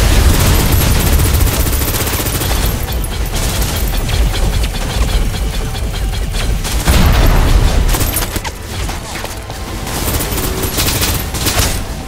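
Sustained suppressive gunfire in the shooter game Snowbreak: Containment Zone during a stolen tank boss fight, loud continuous bursts of automatic fire mixed with booms that run for the whole stretch with no talk.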